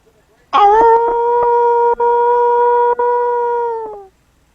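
A man imitates a wolf howl with his voice, one long sustained tonal howl close and loud, rising at the start, briefly wavering twice, then trailing off into silence.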